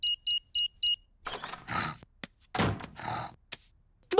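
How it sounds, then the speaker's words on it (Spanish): A cartoon house alarm gets switched off with four quick electronic beeps, then clunks and whirring mechanical sounds follow, close by and without speech. "Voy a apagar la alarma."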